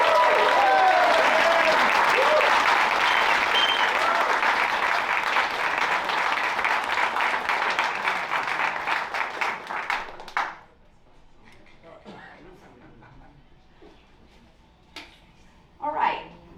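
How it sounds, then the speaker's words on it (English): Audience applause at a Pursuit demo day at Blackstone, honoring fellows' capstone projects; a loud, dense wave of clapping with voices mixed in that fades out around ten seconds, followed by quiet room noise and a brief final swell. "Let's give them a big round of applause."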